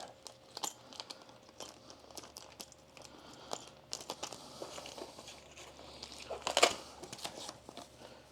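Small plastic valve adapters being tucked back into a plastic bag, giving soft, faint crinkling and rustling with scattered light clicks at close range.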